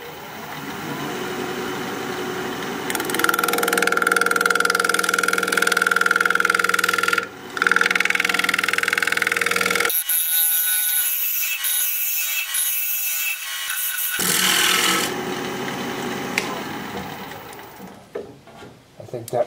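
A wood lathe spins a piece of pepper wood while a cutting tool shaves it, giving a continuous whirring hum with rasping cuts, briefly dropping away midway before resuming.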